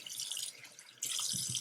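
Tap water runs over makeup brushes being rinsed, a soft hissing splash that dips briefly and then swells louder as the stream hits the bristles, close and unaccompanied by speech.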